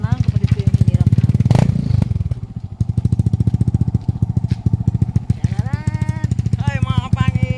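A borrowed motorcycle engine idles with a steady, rapid chugging pulse close by, rising briefly to a louder rev near the start. Voices talk over it throughout.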